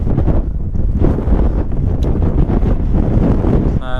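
Strong wind buffeting a microphone on a mountain footpath near Helvellyn and St Sunday Crag above Ullswater, a loud continuous roaring rumble with gusty surges and no talk.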